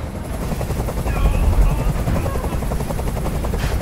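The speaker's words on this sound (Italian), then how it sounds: "Questo rumore mi sta facendo impazzire! Digli di mandare via quell'elicottero!" Helicopter hovering overhead in the video game Detroit: Become Human, a loud continuous rotor thump with a mechanical whine that keeps a steady beating rhythm throughout.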